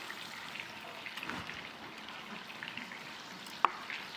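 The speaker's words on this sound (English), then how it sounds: "That's some fine looking fried meat." Pork cutlets fry in a pan with a soft, continuous sizzle and light crackle at close range, with one sharp clink of a utensil near the end.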